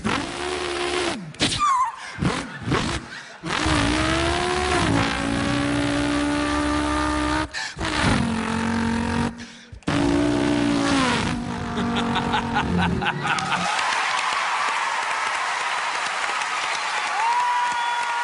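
A human voice imitates a turbo car engine, revving and shifting pitch up and down in loud, close bursts. Short gaps separate the runs, and the sound ends in a long hissing, whooshing blow-off.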